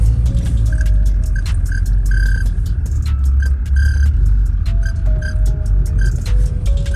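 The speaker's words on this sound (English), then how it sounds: "Got a surge to it." A 1992 Chevrolet Camaro Z28 engine idling with a surge, a loud low rumble that swells and sags unevenly, with a few faint high chirps above it.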